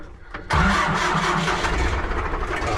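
An MTZ-80 tractor engine cranks briefly, then catches and runs loud and rough close by.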